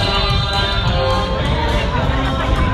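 Steady murmur of a crowd chatting at an outdoor car cruise, overlapping voices forming a continuous babble throughout, fairly close and loud.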